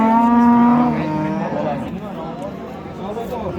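Cattle at a livestock market, one loud, close, drawn-out moo followed by lower lowing and a busy background of people talking.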